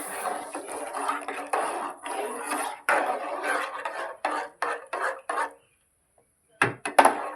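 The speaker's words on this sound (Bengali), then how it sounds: "তাই এখন চাটা বসিয়ে দিচ্ছি" Metal pot and utensils clatter and scrape in a home kitchen as tea is put on to brew, a run of close clinks and rubs, then a pause and a few final knocks.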